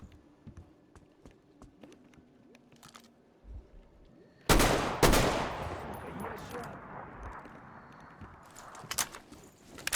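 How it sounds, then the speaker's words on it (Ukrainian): A burst of rapid video game gunfire erupts midway in Metro Exodus, loud and dense, followed by lingering rumble and scattered shots with faint ambient noise before. "Хто там стріляв в мене?"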